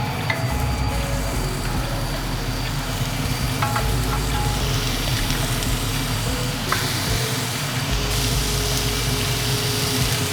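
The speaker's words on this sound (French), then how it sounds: "on passe à la cuisson des steaks" Steaks sizzling in a non-stick frying pan with no oil, a continuous close, dense frying hiss with a few faint clicks of a spatula.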